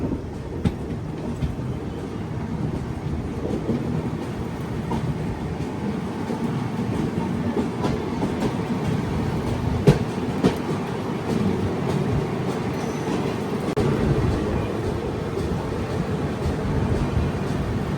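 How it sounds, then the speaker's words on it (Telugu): The Rayalaseema Superfast Express rolls on after pulling out of Begumpet railway station, heard from on board as a steady, loud rumble of wheels and carriage with faint clatter and no letup. "బేగంపేట నుంచి మన ట్రైన్ బయలుదేరిపోయింది"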